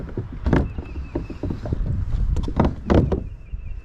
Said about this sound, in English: Let me put the seat back down and paddle it around for a minute.